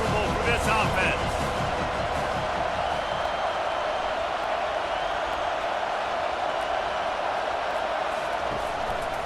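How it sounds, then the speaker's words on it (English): Loud, steady roar of a stadium crowd in College Football 25 during a Miami versus Florida game, a dense continuous wash of noise holding throughout with a brief sharper swell near the start. "This crowd trying to make life miserable for this offense."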